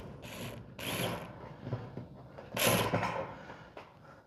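Metal screw being backed out of a roll-up shop door during installation, heard as a series of ratcheting, grinding mechanical bursts with metallic rattles, fairly close and loud, with no talking.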